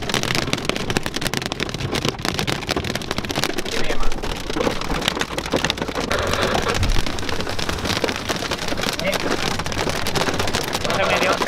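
Hail pelts down hard and steady during a stage of the Vuelta a España cycling race, a dense continuous patter on surfaces close by, with faint voices underneath.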